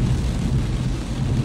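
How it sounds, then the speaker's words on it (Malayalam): Storm thunder and heavy rain in Dammam in early May, a steady loud low rumble with continuous rainfall wash throughout, no voices. "ഇടിവെട്ട് നോക്ക്, ഇടിവെട്ടും മഴയും വെള്ളവും ബഹളവും."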